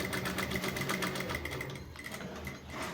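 A sewing machine worked by a foot pedal runs steadily and loudly in a close, continuous whir with a faint rhythmic pulse, the pace shifting slightly as the pedal is pressed.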